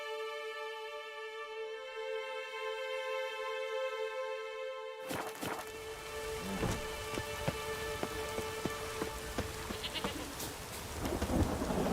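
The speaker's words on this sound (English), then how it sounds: "A storm, damn it." A steady downpour hisses during a rain and thunderstorm in The Witcher 3 video game, with a low rumble of thunder rolling in partway through, the storm loud and continuous and no one speaking.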